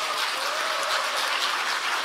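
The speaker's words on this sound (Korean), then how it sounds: "우리 감사 박수 한번 드리시죠" A short stretch of continuous applause from the crowd at a 2024 Dongdaemun-gu New Year reception, thanking the city mayor, heard as an even, fairly soft wash of clapping with no pauses.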